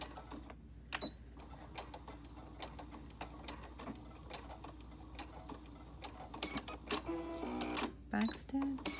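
A sewing machine backstitches the thick seam of a layered fabric mask, giving short quiet bursts of rapid needle clicks between pauses, with small handling sounds and a soft hum in a quiet room.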